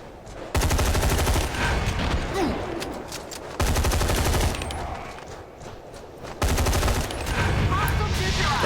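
Automatic weapons fire in the shooter game Hazard Ops: three long, dense bursts of rapid gunshots, loud and close, separated by brief lulls of quieter background noise.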